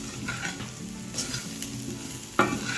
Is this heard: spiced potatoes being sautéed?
yes